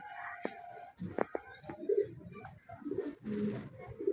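Pigeons giving soft, repeated throaty coos at close range, mixed with brief flutters and clatters in a quiet setting.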